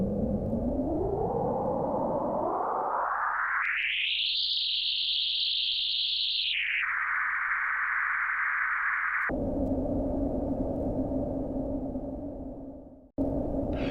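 Dense granular sine-wave tones from a Braids module in Softube Modular sweep upward, hold as a bright high band, then drop in abrupt steps to lower sustained pitches before cutting out briefly near the end.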